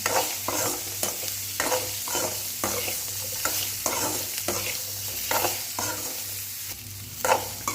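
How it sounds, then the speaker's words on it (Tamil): Ridge gourd chutney ingredients sautéing in a pan, stirred repeatedly with a spatula: rhythmic scraping strokes about every half second over a constant close sizzle. "இதெல்லாம் நல்லா வந்து வதங்கி வரட்டும் நல்லா அது வரைக்கும் நல்லா கிண்டி விட்டுக்கலாம்"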